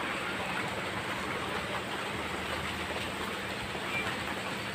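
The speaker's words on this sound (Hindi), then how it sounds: "बारिश स्टार्ट हो चुकी है, अभी हल्की हल्की हो रही है।" Light rain falls steadily outdoors in the countryside near fields, a soft continuous hiss with no distinct drops and no talking.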